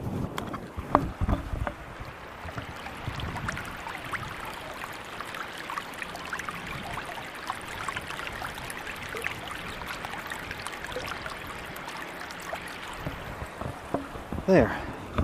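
Flowing water of the Frio River at Garner State Park, Texas, a steady broadband rush that holds throughout, with light wind buffeting the microphone and a brief louder splash or bump near the end.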